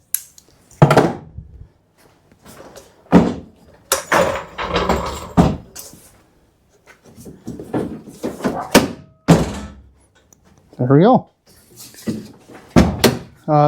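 Car door on a Geo Tracker being worked on, opened and shut, with a broken interior handle; several thunks and latch clicks come in bursts, close by, with someone talking in between.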